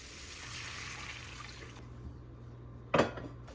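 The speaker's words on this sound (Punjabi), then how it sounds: "ਹੁਣ ਪਾ ਦਵਾਂਗੇ ਆਪਾਂ ਵਿੱਚ ਪਾਣੀ" Water poured into a pan of fried onions while cooking a potato and semolina snack, a steady hissing pour with a short louder splash near the end.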